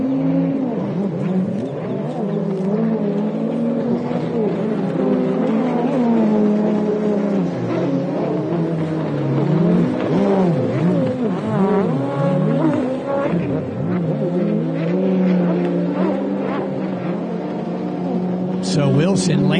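Kawasaki personal watercraft race at an East Coast watercross event in Lake Alfred, Florida, their engines droning and rising and falling in pitch, with a commentator talking over them throughout.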